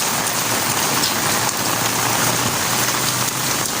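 Heavy typhoon rain from Typhoon Ada pours down in Eastern Samar, a loud, unbroken roar of dense rainfall drumming on surfaces with no voices.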